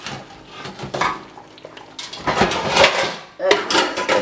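Pots, pans and lids clatter and clank in a kitchen while pork steak and turnip greens cook, with bursts of metallic knocks and scraping, some louder near the end, and a voice occasionally heard.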